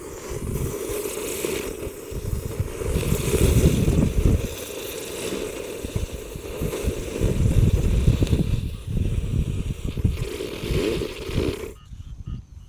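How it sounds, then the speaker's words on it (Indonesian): A spinning ground firework (gangsing) lit inside a hole in the earth gives a steady, rough roaring hiss that swells and fades for about twelve seconds, then cuts off abruptly. "Selanjutnya yang akan kita nyalakan di lubang tanah, di sini ada gangsingan atau roda gila. Langsung kita nyalakan bosku."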